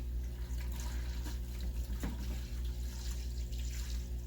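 A big siphon drains water from a 46-gallon bow-front aquarium, producing a steady, quiet rushing and trickling flow with no voices over it.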